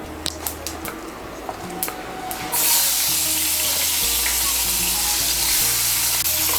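Chopped onion drops into hot oil for a Bengali boal fish curry and bursts into a loud, steady sizzle that fills the rest of the clip, after a few soft clinks and stirs at the start.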